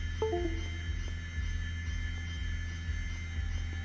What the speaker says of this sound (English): That's the sound of him shutting down and being disconnected.